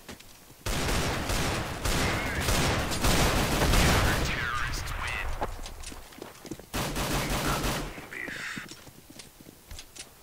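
Rapid gunfire crackles through a Counter-Strike: Global Offensive face-off, with dense bursts of shots filling most of the clip and a brief gap before more firing.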